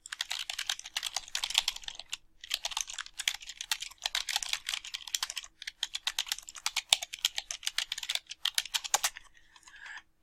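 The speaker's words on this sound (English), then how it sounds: "Here I've typed in a comment for the student," Typing on a computer keyboard, rapid bursts of close, crisp key clicks in uneven runs separated by short pauses, with no talking.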